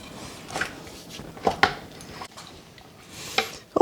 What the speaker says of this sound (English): now I'm going to stir it all up. Mix it up really good.